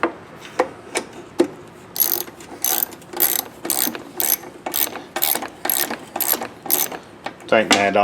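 Rapid ratchet wrench clicks tightening a bolt on a Briggs lawnmower engine's fuel tank, delivered as a loud series of about ten short bursts in a steady rhythm, close up, with a brief metallic clatter at the end.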